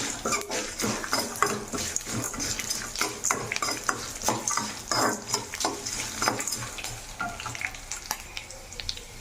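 Black sesame seeds roasting in a pan, crackling and popping densely with repeated scraping stirs of a spoon against the metal throughout.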